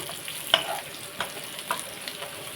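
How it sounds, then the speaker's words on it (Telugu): Sliced bitter gourd sizzles steadily as it fries in a pan, with a soft continuous crackle and a few sharp pops and spatters at irregular moments, heard fairly close and quiet, with no one talking. "వేగుతున్నాయండి"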